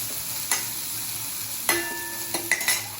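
Kasuri methi, coriander and green chili roast in hot oil with a soft continuous sizzle, broken by several sharp clinks and scrapes of a utensil against the pan, close by and without speech.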